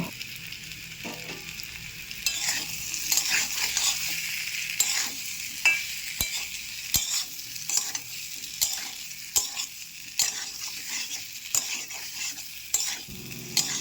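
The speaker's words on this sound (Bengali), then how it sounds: "মশলার সাথে আমি সব কিছু ভালো করে মিশিয়ে নিয়েছি" Fried prawns being stirred into a spiced curry in a pan: a soft steady sizzle broken by repeated scraping strokes of a spoon, close up, with no voices.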